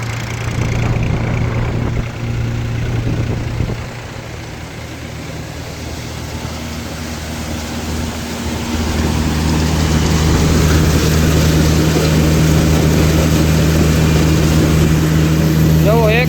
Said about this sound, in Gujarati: આપણું ટ્રેક્ટર 1200 થી 1300 RPM ઉપર ચાલુ છે.